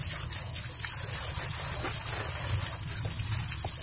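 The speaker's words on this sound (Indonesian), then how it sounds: "air yang gede dan kencang" Strong, fast stream of water rinsing fan parts during cleaning, a steady close gushing and splashing wash with no pauses and no talking.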